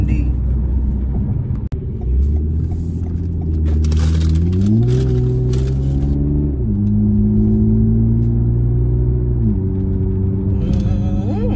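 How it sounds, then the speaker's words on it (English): A car engine idles and revs in low, rumbling steps, with pitch rising and falling as the throttle changes; close and steady, with a brief click near the start and a voice talking faintly underneath. "car sound good"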